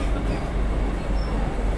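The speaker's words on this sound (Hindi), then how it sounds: "और वापस से टनल में एंटर हो गई अपनी ट्रेन।" Vande Bharat Express train on the Srinagar–Katra line entering a tunnel, a dense, continuous rolling roar of wheels and carriage noise throughout.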